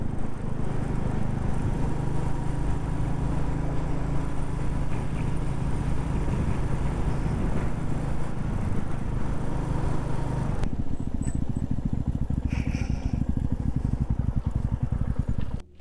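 A Royal Enfield Meteor 350 motorcycle being ridden on an open road, its engine thrumming steadily under loud rushing wind noise, with the sound changing abruptly near the end.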